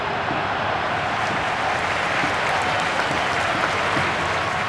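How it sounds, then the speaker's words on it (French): A stadium crowd roars after a football goal, a loud steady wash of cheering and applause that holds without a break throughout. "La foule aura explosé, à juste titre."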